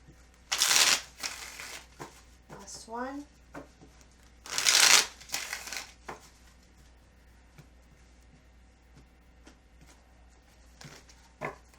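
Playing cards being shuffled close up, two crisp riffling bursts with quieter card handling and taps between them, and a brief spoken remark in a quiet room.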